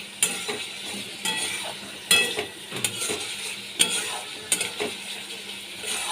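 Shola kochu taro is fried and stirred with spices in a pan for a katla fish and potato curry, with a continuous sizzle and a spatula clinking and scraping against the pan at irregular intervals.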